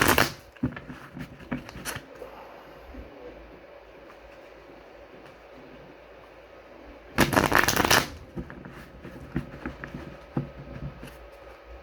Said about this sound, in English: Give them a bit of a flick shuffle.